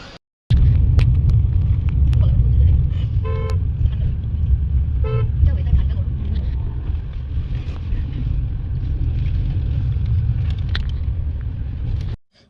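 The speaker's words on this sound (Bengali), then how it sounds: "চলো এবার উঠে পড়ো গাড়িতে।" A car ride through traffic carries a steady low engine and road rumble, with a couple of short horn toots standing out above it; the sound is close and continuous.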